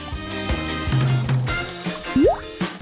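Jelly syrup squeezes out of a tube onto ice cream. Wet squelchy squirts and sticky drips come in short bursts close by, ending with a rising gurgling squeeze and no talk.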